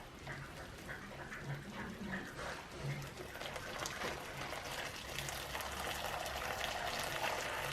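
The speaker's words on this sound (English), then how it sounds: "I'm going to pour water over the top, boiling water" Boiling water poured over English mustard and other ingredients in a pan on the stove, a steady close splashing gush that runs throughout.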